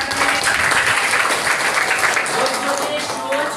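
Classroom students applauding a classmate during an ICT simulation lesson, steady dense clapping sustained for several seconds with voices mixed underneath.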